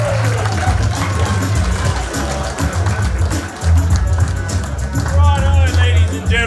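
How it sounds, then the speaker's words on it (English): Audience applause and cheering for the Gong Master at a live comedy game show, a dense, loud crowd roar with clapping and shouts that dips briefly midway and then swells again. "Would you put your round of applause together? Let's start going nuts for Chris PUCILLO."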